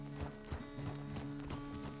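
Horse hooves clip-clopping at a walking pace in Red Dead Redemption 2, a steady rhythm of soft thuds close by over a faint background, with no talk.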